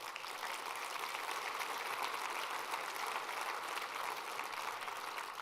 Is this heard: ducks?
no